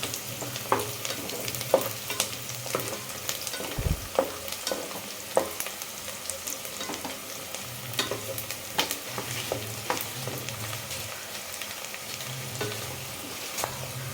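Crab curry masala with onion, coriander powder and cumin powder is stirred in a pan, its soft continuous sizzle broken by irregular scraping and clinks of the spoon, steady and close, with no speech.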